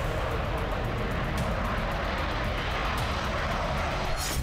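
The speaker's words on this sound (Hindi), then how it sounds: "36वें राफेल जेट की लैंडिंग हुई।" A Rafale fighter jet landing gives a steady, loud roar of engine noise that holds at one level the whole way through, with no voices.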